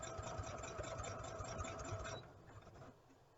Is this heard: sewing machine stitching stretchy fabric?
yes